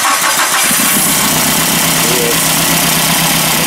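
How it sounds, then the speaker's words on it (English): A CAT forklift with a K21 engine and a dead misfire runs loud and close, a rough, uneven idle with a steady low drone throughout. "Has a K21 engine, and the problem is it has a misfire, dead miss."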